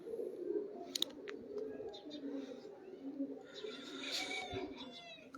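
Pigeons coo softly on a Lahore rooftop, low murmuring calls rising and falling under faint chirps, with people talking nearby.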